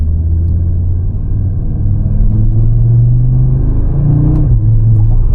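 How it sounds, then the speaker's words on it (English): A 2025 Audi RS3 facelift, 400 hp and 500 Nm with a 7-speed S tronic, bellows under acceleration as heard from inside the cabin, a loud, continuous deep engine drone whose pitch rises and dips through gear changes. "the way the engine note just bellows is just, it sounds amazing"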